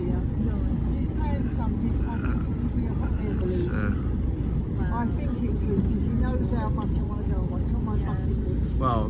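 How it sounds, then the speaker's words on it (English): Boat motor on a Fowey Harbour river cruise, a steady low droning rumble running nonstop beneath a person speaking and wind noise, close and continuous. "if you can hear me talking and you can't hear a thing I'm saying is because of the motor running"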